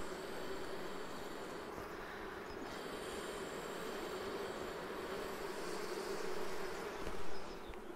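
Honeybees fill the combs of a Bienenkiste bee box hive during a spring inspection, giving off a dense, steady buzzing drone that stays close and loud throughout with a slight swell near the end, and no voices.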